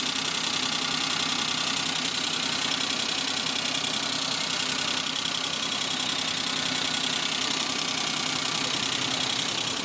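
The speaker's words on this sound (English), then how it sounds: "The Suzuki F5A engine with an intercooler there." A 1989 Suzuki Jimny Samurai's three-cylinder 550cc F5A engine with intercooler idles in a steady, close, unbroken hum with a faint rhythmic knock, no talking.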